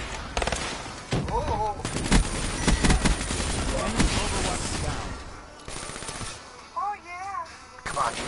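Bursts of automatic gunfire from bots in Black Ops III rattle in rapid, overlapping volleys, loud and close, with brief gaps as a voice talks over them.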